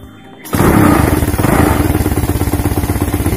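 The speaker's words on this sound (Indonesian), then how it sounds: "Saya akan nyalakan motornya" A motorcycle engine with a gear-engagement fault is started after a brief quiet moment, catching abruptly and settling into a loud, close, rhythmically pulsing idle that continues without talk.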